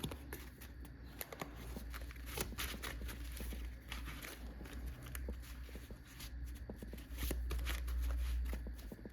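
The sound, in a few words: shuffling a deck of cards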